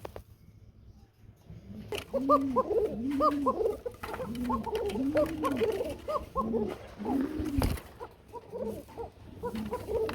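A pair of Bashiras Kuka pigeons cooing, repeated rolling coos in a steady rhythm, close and clear against a quiet background.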